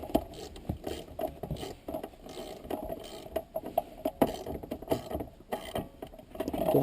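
A hand ratchet clicking in short uneven bursts while snugging the bolts of a short throw shifter on a 1979–2004 Mustang T5 or T45 transmission, close and fairly quiet.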